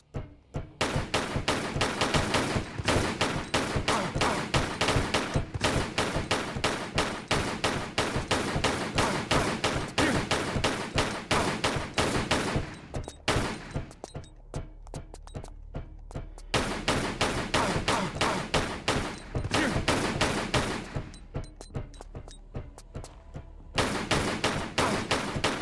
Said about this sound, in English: Now we gotta keep shooting him